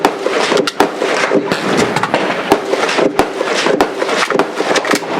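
Rapid AR-15 rifle fire at steel targets outdoors, a fast string of loud sharp cracks in uneven bursts with brief pauses between volleys, no talking.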